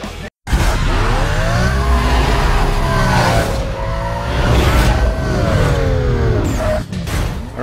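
Race cars roar through a speed trap event in Need for Speed: Most Wanted, with a loud, continuous engine whine rising and falling through gear changes and tire squeal mixed in, close and steady throughout.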